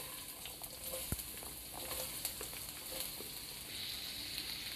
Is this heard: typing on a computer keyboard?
no